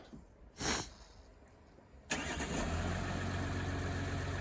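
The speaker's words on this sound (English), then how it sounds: "Lights flash and the engine will start in about 4 seconds." A car engine starts by remote start with no one inside, cranking and catching abruptly, then settling into a steady idle, preceded by a brief faint beep-like burst.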